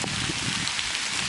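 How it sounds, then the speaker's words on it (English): Light rain and a little wind during Hurricane Sandy in downtown Leominster make a steady, dense hiss of falling drops, close and continuous with no voices. "you get a little wind and a tiny amount of rain"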